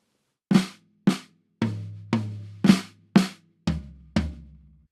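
Eight crisp drum flams played alone, alternating between a snare drum and lower, ringing tom hits, each stroke doubled and left to decay before the next.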